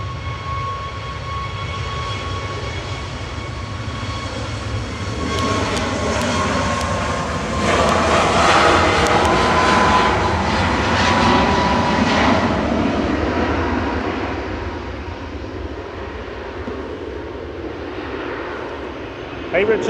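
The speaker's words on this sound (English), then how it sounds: "Departing next is Ryanair, heading off to Billund" A Ryanair jet airliner departs Manchester Airport bound for Billund, its engine roar swelling to a loud peak mid-clip, then fading into a lingering rumble, with wind noise and faint talk underneath.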